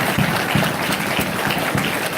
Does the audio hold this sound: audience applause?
yes